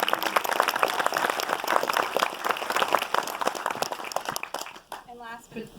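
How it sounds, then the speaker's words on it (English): Audience applause for a woman panelist at a Dark Money Q&A, a dense, steady crowd clapping that runs loud for several seconds, then thins and fades out near the end as a voice begins. "Let's give her another round of applause for her work."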